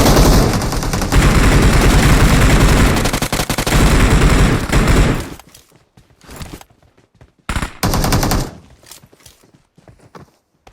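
Rapid gunfire from PUBG Mobile, loud dense bursts for about five seconds, then scattered shorter bursts and single shots between quieter gaps.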